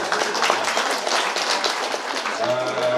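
An audience claps at the inauguration of the 215th suspension bridge in Garut, West Java, a dense, loud, continuous applause that fills the whole short stretch, with voices faintly mixed in.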